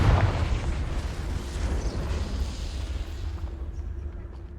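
Confringo fire spell blasting in Hogwarts Legacy, a heavy booming explosion that hits hard at the start, then rolls into a long rumbling decay and slowly thins out.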